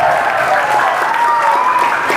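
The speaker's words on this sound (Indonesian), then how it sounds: "Tepuk tangan dong untuk Bismillah." A crowd at a mosque Maulid celebration claps steadily and loudly throughout, a dense, continuous wash of applause.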